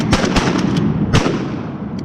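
Shotgun blasts at wood ducks during a hunt, several sharp reports in quick succession, loud and close, with one more shot a moment later.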